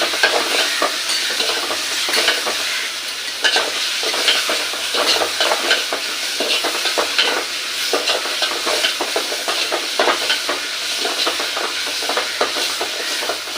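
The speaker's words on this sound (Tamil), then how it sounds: "லைட்டாக மஞ்சத்தூள் நல்லா கலக்கி விட்டுக்கோங்க" Tomato masala with turmeric stirred into it fries for a village-style green sundakkai kuzhambu, with a loud, continuous sizzle broken by frequent scraping and stirring strokes of a spoon in the pan.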